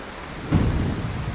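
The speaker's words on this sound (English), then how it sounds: "When the rains finally came, it was like no rain I've seen in Africa." Steady heavy rain patters in Katavi, Africa, while a low rumble of thunder swells briefly in the middle, fairly close.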